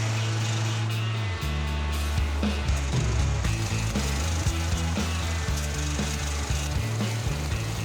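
Wooden deck boards prised up from a steel lakeside dock, a loud, continuous creaking and grinding of wood with shifting tones and scraping, close up, no talking.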